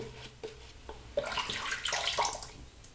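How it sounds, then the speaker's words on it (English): Water trickles and splashes while shaving soap is worked into a dense, creamy lather, a near, continuous wet swishing with brief drips and brush-like rustles building louder toward the end. "I loaded pretty heavily, so I'm going to add just another touch of water."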